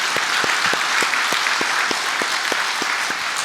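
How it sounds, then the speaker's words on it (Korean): A church congregation claps in unison, loud, steady rhythmic beats about three per second filling the sanctuary without a break. "우리 하나님 앞에 영광의 박수를 올려보내겠습니다"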